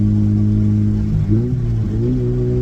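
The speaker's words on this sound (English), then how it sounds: "So smooth with that 3-inch exhaust." A car engine with a 3-inch exhaust idles and revs smoothly with a deep, throaty exhaust hum, steady and close, with a slight rise in pitch midway.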